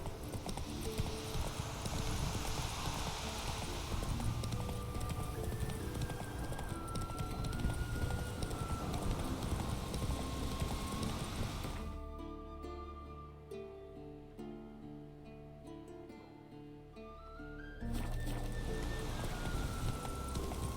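Horse hooves clip-clop at a gallop in The Witcher 3: Wild Hunt, a steady rhythmic beat under game music and ambience, briefly quieter midway before resuming.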